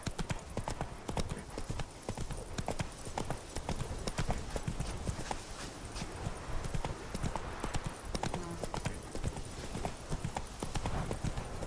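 Roach, the horse in The Witcher 3: Blood and Wine, gallops with a steady, rapid drumming of hooves, close and loud throughout, with an occasional faint snort mixed in.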